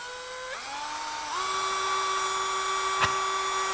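A Toolman 21V cordless drill whines as its motor spins up, the pitch stepping higher twice before settling into a steady high-speed buzz, close by.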